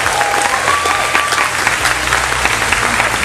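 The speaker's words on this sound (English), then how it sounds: "Let's give him a round of applause wherever he is." Steady, dense applause from a large audience gathered aboard a cruise ship, loud and continuous throughout with faint crowd murmur beneath and no clear voices.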